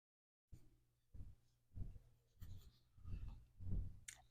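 A pen sketches a Zentangle floral pattern on paper, giving a series of about six soft, close scratchy strokes in an uneven rhythm with short pauses between them.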